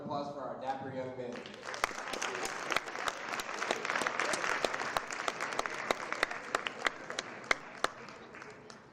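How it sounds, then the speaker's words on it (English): Audience at a Black History Month school assembly gives a round of applause: dense, sustained clapping with sharp individual claps standing out, fairly loud throughout and fading slightly toward the end, following a brief voice at the start. "Give another round of applause for our dapper young men."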